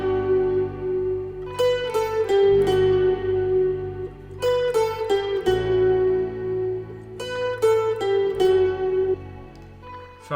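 Electric guitar strumming the opening part of a song, bright chords struck in loose groups with a sustained ringing high note over them, played alone and close.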